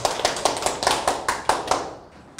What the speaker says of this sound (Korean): 우리 아내한테 힘내라고 박수 한번 보내주십시오